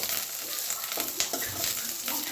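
Curry leaves sizzle and crackle in hot oil in a pan over low flame, a steady bright frying hiss with small pops and occasional stirring scrapes.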